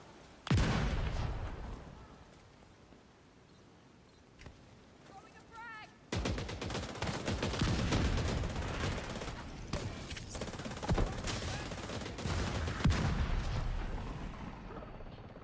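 Mortar and gunfire in The Division 2 erupt as dense, loud explosive thuds and rapid shots, a sustained barrage of booms with someone talking over the game sounds.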